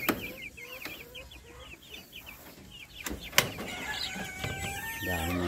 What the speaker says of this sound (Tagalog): Ayan ang mga chicks. Oh. Diba? Mga Jersey Giant.